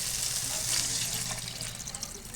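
Water is poured into a cooking pot for a thin broccoli and fish curry, a steady splashing pour that gurgles and softens toward the end, near and moderately loud.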